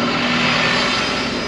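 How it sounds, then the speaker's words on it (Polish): A bus passes along a city street, a steady loud broadband engine and road rumble with a low hum, holding close and even for the whole stretch. "Muszę poczekać, aż autobus przejedzie."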